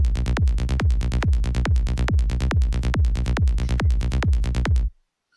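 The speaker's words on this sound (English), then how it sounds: "Only bass and kick sounds like this." Psytrance kick drum and rolling bass in B from a Sylenth1 bank, pumping in a fast, steady rhythm of punchy low hits for about five seconds before stopping abruptly, no talking.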